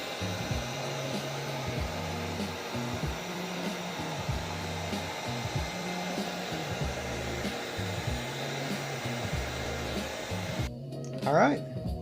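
A heat gun blows steadily on a chrome delete wrap over a car's side badge, making a continuous whooshing hum with a faint rhythmic fluctuation that stops abruptly near the end.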